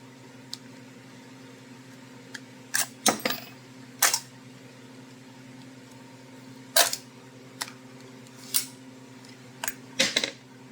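Sharp, short mechanical clicks from a firearm's trigger and safety being worked on a gunsmithing bench, a dozen or so isolated snaps spread irregularly over a steady low hum, close and crisp with no talking.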